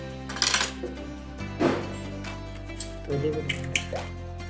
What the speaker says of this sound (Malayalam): ഒരു മിക്സിൻ്റെ ജാറിലോട്ട് 4 കോഴിമുട്ട പൊട്ടിച്ച് വയ്ക്കാം